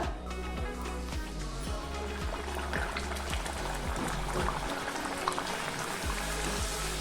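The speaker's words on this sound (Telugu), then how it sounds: "ఇప్పుడు మనము ఒక బాండీ పెట్టి ఆయిల్ పోసుకొని ఆయిల్ బాగా కాగిన తర్వాత" Puris frying in a pan of well-heated oil, giving a steady, dense bubbling sizzle that holds at an even level throughout.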